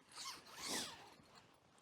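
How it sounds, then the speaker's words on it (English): A tent zip on a cheap Temu lay-flat hammock is pulled open in two quick, close rasping strokes, the second longer, followed by a brief quiet pause and a small click. "unzip it with the other."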